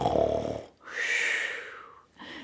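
A person imitates an old man snoring, producing a long raspy, wheezy inhaled snore after a brief vocal lead-in and starting another, close and loud with no talking.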